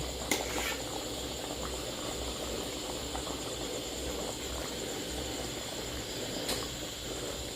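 Bamboo shoot and chicken curry boiling in a pot, a quiet, steady bubbling simmer with soft hiss and a couple of faint clicks, no talk.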